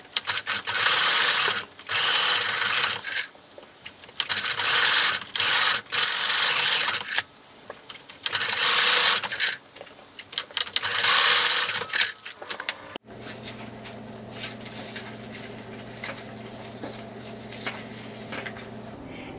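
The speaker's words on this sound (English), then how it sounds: "you're going to sew across to close the hole" A sewing machine stitches across a fabric bookmark, sewn close to the edge to close a turning hole, running in several loud bursts with short pauses, then a quieter steady hum from about 13 seconds.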